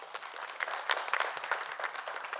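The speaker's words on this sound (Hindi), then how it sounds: "जोरदार तालियां" A studio audience at a live televised singing competition breaks into lively applause, a bright crowd of clapping with small swells throughout and no voices over it.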